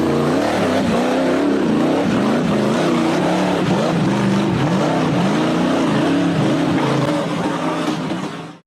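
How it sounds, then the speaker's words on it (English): An orange-framed off-road buggy engine roars loud and close as it accelerates hard up a steep rocky forest slope, revs rising and wavering continuously before cutting off abruptly. "The orange-framed buggy accelerated hard to climb a steep rocky slope deep in the forest."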